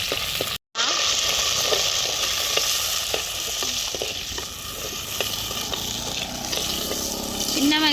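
Vadagam and garlic fry in hot oil in a home kitchen, a continuous crackling sizzle with scattered pops and stirring clatter, broken by a brief dropout near the start.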